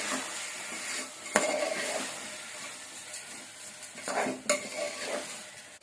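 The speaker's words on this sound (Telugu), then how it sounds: "ఇప్పుడు దీనిని ఒకసారి కలుపుకోవాలి." A spoon stirs soaked rice and split moong dal in a pot for pulagam, giving soft scraping and wet shuffling sounds with a few sharp metal clinks against the pot, close and fairly quiet.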